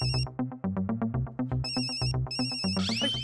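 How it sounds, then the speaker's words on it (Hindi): A mobile phone ringtone plays alone in a home, a repeating electronic melody of quick bright tones in steady rhythm, moderately loud and clear, ending with a short warbling flourish. "जेठा भाई का फोन है।"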